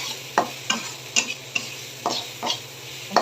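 Dried fish frying in a pan, stirred with a steady series of scraping strokes about every half second over a soft, continuous sizzle, close and alone.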